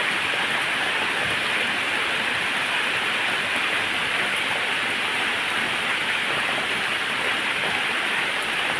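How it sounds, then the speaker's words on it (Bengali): Heavy rain pours down in a steady, dense roar, constant and loud throughout with no talking. "এদিকে বন্ধুরা প্রচুর বৃষ্টি চলে এসেছে"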